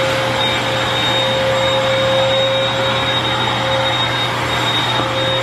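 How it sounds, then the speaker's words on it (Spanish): A household vacuum cleaner runs at close range in a home, giving a loud, steady, unbroken drone with a constant whine and no talking. "me está ayudando a aspirar."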